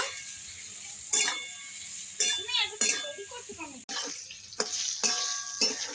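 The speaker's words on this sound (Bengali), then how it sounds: "আমি বেগুনটা আর একটু ভেজে নেব" Eggplant frying in a pan with salt, turmeric and chili powder, soft sizzling under someone talking, with a few stirring scrapes and clinks of a utensil.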